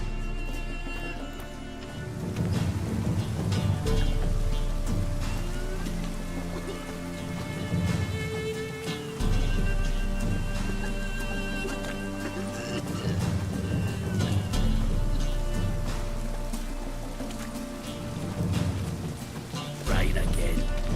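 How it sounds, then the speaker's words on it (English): Steady rain falls throughout in The Witcher 3 with low thunder rumbling underneath, a dense continuous hiss with swelling low booms, while voices talk over it. "Rain again. Damn mages."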